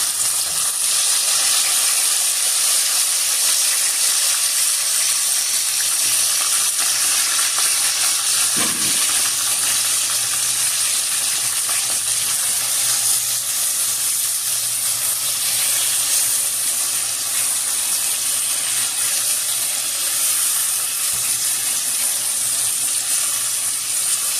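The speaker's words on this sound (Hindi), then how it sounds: "तो जब तेल गर्म होगा तो फिर हम इसमें भिंडी ऐड करेंगे।" Okra frying in hot oil, a steady, loud hiss and sizzle that continues unbroken without talk.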